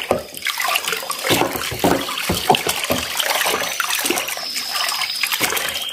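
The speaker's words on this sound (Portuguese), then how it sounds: "Aí você vai colocar 100 ml de detergente da sua preferência." Liquid detergent poured into a homemade disinfectant mixture, a continuous close splashing, gurgling pour that runs throughout with no talk.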